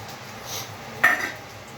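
Fried eggplant pieces set into a bowl, giving a soft scrape followed by one sharp clink of utensil against the dish, then quiet.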